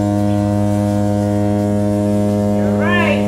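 A ship's horn sounds as a deep, loud, sustained tonal blast that holds steady throughout, with a brief higher wavering tone near the end.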